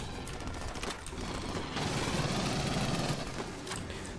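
Dense, continuous rattling gunfire in the video game Aliens Fireteam Elite, as players shoot at xenomorph aliens. The bursts run without pause at steady, moderate loudness, thickening briefly midway.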